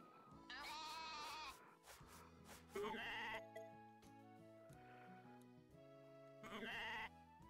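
Sheep bleat repeatedly in the farming video game Story of Seasons: A Wonderful Life, several loud wavering cries in separate bursts over soft game music, with no talk.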